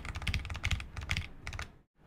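Rapid clusters of computer keyboard keystrokes clatter close up in quick bursts, then stop abruptly into near silence.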